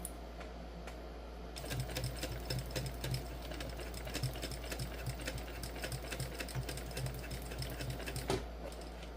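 A sewing machine stitches a Zuri crossbody bag in a fast, even run of mechanical clatter that starts after a quiet moment, close and continuous, with a brief stop near the end.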